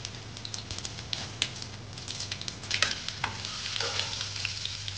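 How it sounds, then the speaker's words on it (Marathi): Garlic cloves frying in a pan for a bottle gourd sabzi give a soft, steady sizzle with light crackles and occasional scraping stirs, quiet and close, with no talking. "आता हा टाकलेला लसणाच्या पाकळ्या चांगल्या मस्तपैकी परतून घेणार आहे"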